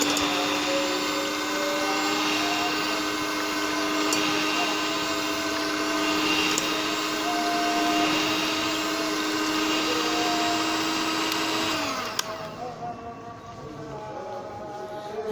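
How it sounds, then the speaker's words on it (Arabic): Electric hand mixer beating eggs with vanilla, a steady whirring motor hum running continuously at close range for about twelve seconds before it cuts off, leaving quieter kitchen background. "حطيت البيض بالفانيليا يا حبايبي اهوت، هضربه بقى بالمضرب الكهربائي"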